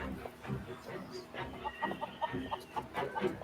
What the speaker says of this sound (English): Chickens clucking.